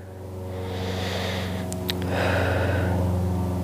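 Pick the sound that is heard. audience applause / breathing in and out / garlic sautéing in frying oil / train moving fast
breathing in and out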